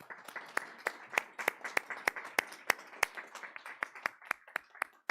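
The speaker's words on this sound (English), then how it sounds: "can we give these board members a big round of applause?" A small audience at a high school board of education meeting claps for the board members, a modest round of applause with distinct individual claps in a loose, steady patter, fairly near.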